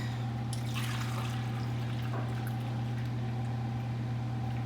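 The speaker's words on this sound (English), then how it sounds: "So then you're gonna measure out your milk." Milk poured into a measuring container for cinnamon roll dough, a soft trickling stream over a constant low kitchen hum, with no one talking.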